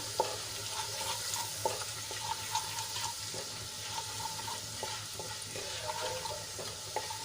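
Gram flour frying in a pan of sautéed ginger, garlic and chilli paste, a faint steady sizzle broken by soft scraping stir strokes and light clinks.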